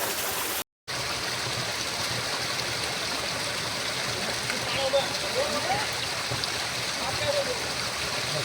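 Cool natural water flows at Jatashankar in the Girnar forest, a steady broadband rush close by, with faint voices now and then under the constant wash.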